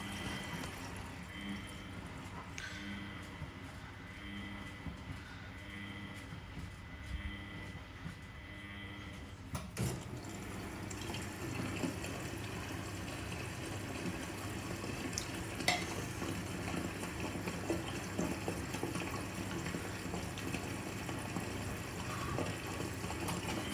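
A Miele W830 washing machine runs a Cottons 95 cycle, its inlet hissing steadily as it tops up water toward the high level, with soft sloshing and a clunk partway through; a voice speaks faintly now and then.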